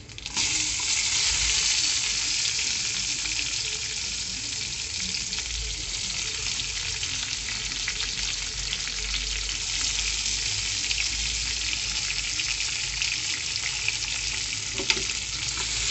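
Onions fry in hot oil with a loud, unbroken sizzle, a dense hissing crackle that holds steady for the whole stretch with no voices.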